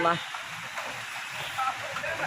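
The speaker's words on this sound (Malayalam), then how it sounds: "നല്ല സൂപ്പർ മഴ" Heavy rain falls in a steady, even hiss across the whole stretch, with voices talking faintly underneath.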